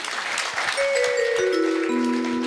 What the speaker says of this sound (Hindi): ताली बजाओ ये बहन जी के लिए